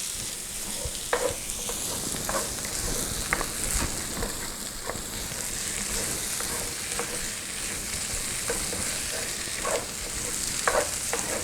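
Sausage and garlic fry in a pan with a steady broadband sizzle, broken by periodic scraping clicks of stirring, close and continuous throughout.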